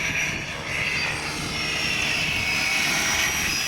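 A TBS Mini Flying Wolf model aircraft, fitted with an engine sound effect, runs outdoors with a steady, loud, continuous engine drone that holds level throughout.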